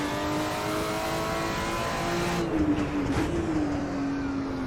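In Assetto Corsa, a Porsche 935 Moby Dick race car's engine drones loud and steady, its pitch dipping and swelling slightly as it passes under a bridge midway.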